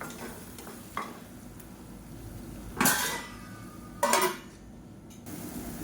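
Onion thokku stirred in a pan with a spoon, soft sizzling under a few scraping strokes, then two loud clattering bursts as the lid is handled and set down over the pan.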